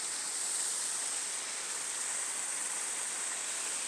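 A waterfall in the Churnet Valley rushes with a steady, even hiss of falling water, close and unbroken, with no other sounds standing out.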